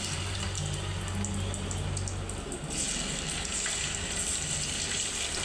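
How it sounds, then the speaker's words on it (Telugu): Potato pieces sizzling in hot oil in a pan, a steady, dense crackle and hiss that carries on without pause, with a low hum underneath. "బాగా నూనె బాగా వేడి చేసుకున్న తర్వాత మనం ఈ పీసులు ఈ పీసులు ఇలా వేయండి"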